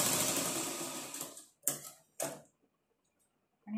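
A sewing machine stitches blouse fabric in a quick whirring run, then two short bursts of stitching follow with pauses between, fairly close and alone.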